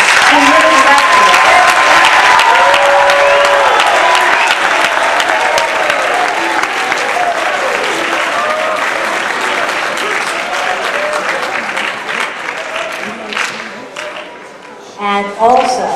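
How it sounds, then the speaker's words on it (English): A large audience claps and cheers for the students of Camden Creative Arts High School's jazz band at a concert at Cherokee High School, with loud sustained applause and whoops that taper off, followed by a voice. "give a big round of applause to the records, to the records"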